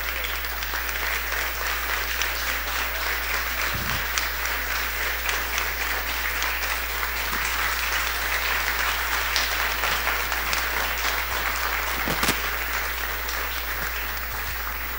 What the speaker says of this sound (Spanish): Para que ellos se merecen un gran aplauso